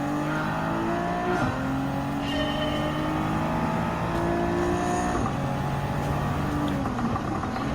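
A Honda Civic Type R Limited Edition race car engine in Gran Turismo 7 at Fuji, a loud continuous high-revving drone with pitch climbing through each gear and dropping at quick shifts, other cars blending in.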